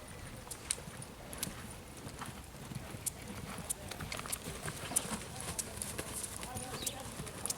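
A horse cantering in a riding arena, its steady three-beat hoofbeats thudding in a continuous rhythm close by while a trainer calls out instructions.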